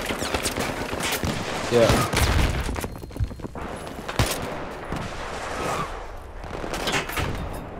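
Gunfire from snipers during combat in the Battlefield 3 video game, scattered loud cracks and bursts amid battle noise, with players talking over it.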